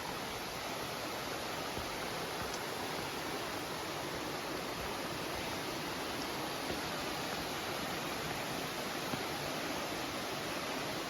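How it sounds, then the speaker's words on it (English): A distant waterfall on a hike gives off a constant, even roar of rushing water, unbroken and steady throughout with no voices. "Guys, I hear the water now. It has to be a waterfall."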